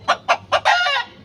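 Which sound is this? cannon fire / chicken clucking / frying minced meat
chicken clucking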